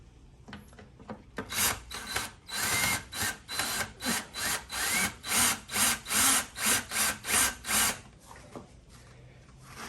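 A Ryobi drill backs screws out of a shelf being dismantled, a dozen or so short whirring bursts in a steady rhythm, each a few fractions of a second long, close and fairly loud.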